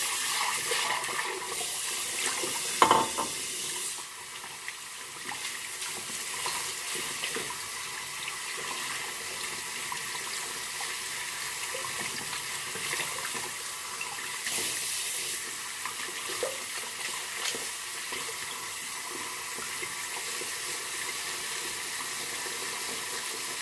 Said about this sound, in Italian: Sciacquiamo tutti gli strumenti.